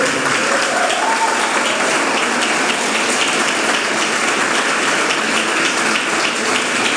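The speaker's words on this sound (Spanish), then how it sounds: "fuerte aplauso a ellos aquí" A church crowd at an evening testimony service gives a loud, sustained round of applause to welcome a couple onstage, dense steady clapping filling the room throughout with no talk over it.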